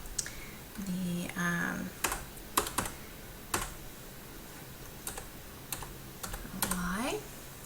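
Soft, sparse keystrokes on a computer keyboard as a website address is typed, scattered clicks with short pauses and a faint voice murmuring underneath.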